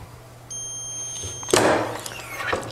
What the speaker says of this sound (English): it beeps when it's finished so you know to open